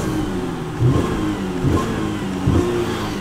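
A 2018 Chevrolet Impala Premier engine idles in park and briefly revs three times, each rise short and capped, with a steady rumble between, close by.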